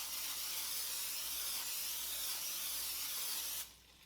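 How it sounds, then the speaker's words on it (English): A pan gets a coat of cooking spray: one continuous close aerosol hiss lasting about three and a half seconds, then stopping abruptly. "Giving my pan a good coat of pan spray."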